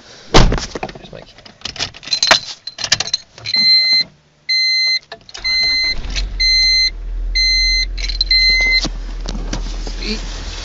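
A 1998 Honda Civic with a 1.6L engine is started with the key: door and key clunks, chime beeps, then the starter catches and a low, steady idle settles in, with a voice talking over parts of it.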